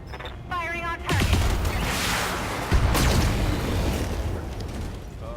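Battlemech weapons firing on a target in the mech combat game BattleTech: a loud volley of blasts and explosions breaks out, with a second heavy impact a couple of seconds later, then rumbling fire continues over a steady game soundscape.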